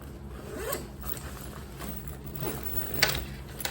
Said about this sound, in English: where's that other zipper? There's one right here, okay.